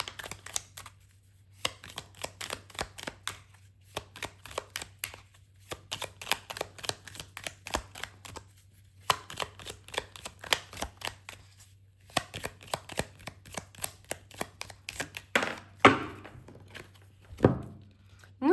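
Tarot and Lenormand cards being shuffled by hand, a long run of soft papery riffles and slides in close, irregular bursts with brief pauses, ending in a few sharper taps as the deck is squared.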